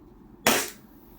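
A WE Glock 17 G5 airsoft pistol fires a single sharp, loud 0.20 BB shot up close, decaying quickly into quiet.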